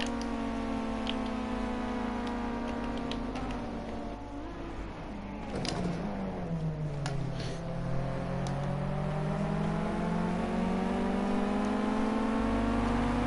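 A race car engine drones steadily on an onboard lap of the Snetterton 300 circuit, its pitch dipping then climbing again as the car slows and accelerates, loud and close throughout.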